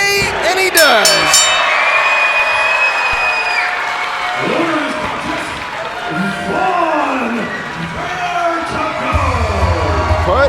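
A Smash Wrestling crowd at a live fight-night event cheers and whoops after a win, a loud mass of shouts and applause with an announcer talking over it.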